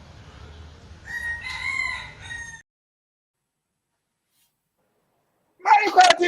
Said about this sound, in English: chicken crow